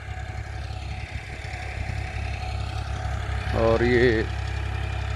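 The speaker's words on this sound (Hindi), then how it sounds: "ये ट्रैक्टर है फार्म ट्रैक 30," A Farmtrac 30 tractor engine runs with a steady low rumble on a farm field, continuous throughout, while someone talks over it.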